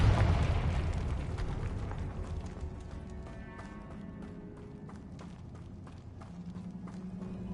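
Confringo fire spell cast in the Hogwarts Legacy video game: a heavy, booming blast right at the start that fades into a long crackling rumble, with scattered clattering game effects continuing throughout.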